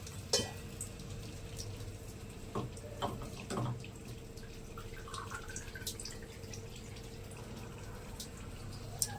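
Water runs steadily from an Aquaguard purifier in a home kitchen, a soft continuous trickle with a few drips and light clinks, fairly close and quiet, with no speech.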